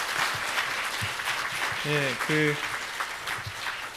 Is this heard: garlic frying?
no